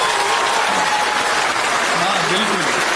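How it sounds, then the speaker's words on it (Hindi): Loud, dense audience applause at a Hindi shayari poetry recital fills the moment, steady and continuous from start to finish, with faint voices blended into the clapping. "जोरदार तालियां।"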